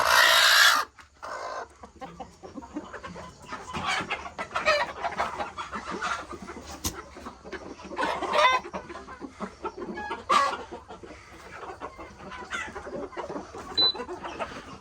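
Hens clucking on a home poultry setup where birds are being set to brood eggs, busy overlapping clucks and calls from several birds close by, steady throughout with no talk.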